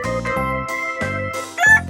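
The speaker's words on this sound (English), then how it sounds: "It's chicken." A chicken on a farm gives a series of loud, close clucks and squawking calls in uneven bursts, heard alone without any voices.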